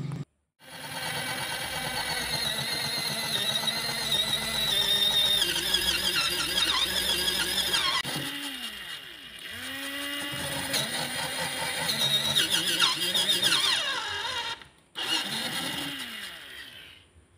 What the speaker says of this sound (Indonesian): Selanjutnya kita akan bor juga di bagian samping sini untuk membuatkan drat sebagai pengancing as